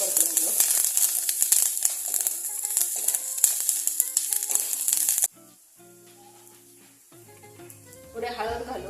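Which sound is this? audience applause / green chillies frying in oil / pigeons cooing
green chillies frying in oil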